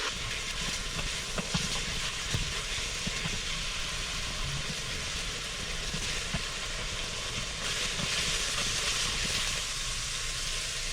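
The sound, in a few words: ground meat browning in a pot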